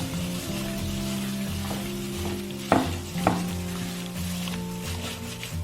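Sliced pork with beaten egg, salt and white pepper being mixed by hand in a bowl, with soft wet squishing under a steady low background hum and two sharper knocks midway, no talking.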